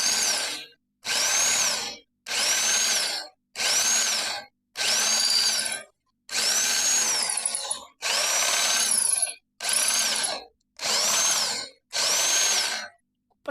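A power drill bores bolt holes in a wooden trailer in ten bursts, each whining for about a second with short pauses between them, loud and close with no talk.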